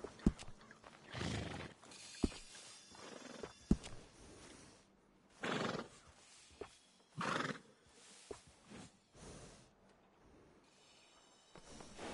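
Horse neighing and whinnying in the video game Red Dead Redemption 2, several separate snorting whinny bursts with occasional hoof clip-clops and thuds, fairly quiet and without speech.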